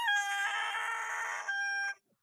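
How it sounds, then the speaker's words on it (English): A rooster crows once, loud and close, a long harmonic call that holds steady before cutting off sharply, with no talk over it. "you have a lovely rooster crow"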